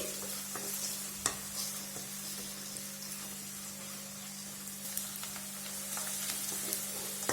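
Sliced onion fries in oil in a pan for an egg curry, a soft continuous sizzle with occasional sharp scrapes and clicks of a spoon stirring, close and fairly quiet.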